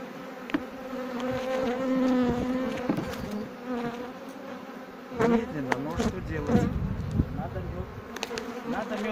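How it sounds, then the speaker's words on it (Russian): Honey bees buzz around hives at an apiary in late June on a poor-weather day, a dense continuous droning swarm close by with individual bees sweeping past, louder passes near the end. "поэтому немножко пчелы летают уже"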